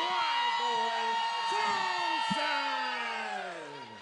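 A crowd at an MMA debut bout roars for fighter Jeff 'Wildboy' Thompson, a loud, sustained wall of shouting, whoops and cheers that eases off slightly toward the end.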